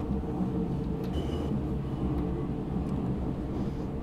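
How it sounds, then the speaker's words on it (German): Two U-Bahn trains pass one after another in the SubwaySim Hamburg game, a steady loud low rumble of wheels and motors running throughout. "Hier zwei U-Bahn-Züge, die direkt hier hintereinander langfahren."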